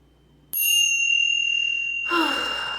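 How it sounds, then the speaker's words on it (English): A bright small ritual bell strikes once with a long shimmering ring, followed by a softer rustle or breathy sound as the tone fades. "we're going to go in with the tincture bells"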